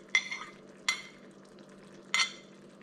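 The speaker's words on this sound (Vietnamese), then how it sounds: "bây giờ mình bỏ hành với ớt vào luôn nha" Shallots and chili dropped into a simmering clay pot of braised goby fish, heard as three quick splashy sizzles that flare and fade over a steady low bubbling hum.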